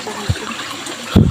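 Outdoor water trickling and dribbling nearby, soft and continuous, with two short low thumps breaking through.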